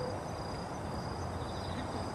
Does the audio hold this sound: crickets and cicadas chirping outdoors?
yes